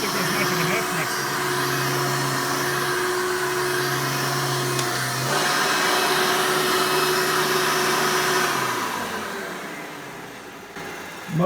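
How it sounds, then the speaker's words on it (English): Steady, loud whining drone of a Hoover Elite vacuum cleaner with a replaced motor running continuously, its pitch shifting slightly midway before winding down near the end. "Motor sounds so much better now"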